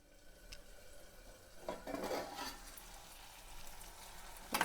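Ridge gourd curry simmers in a covered pan, giving a quiet, even sizzle that holds steady. A couple of faint clinks and a short stirring rustle rise above it partway through.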